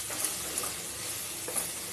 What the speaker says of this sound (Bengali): ঢ্যাঁড়স ভাজা করছি এদিকে।